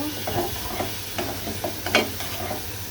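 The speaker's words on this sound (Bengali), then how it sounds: "এভাবে আমি আরও কিছুক্ষণ ভেজে নিব।" Onion and garlic fry in a pan with a steady close sizzle, broken by repeated soft scraping strokes as the food is stirred.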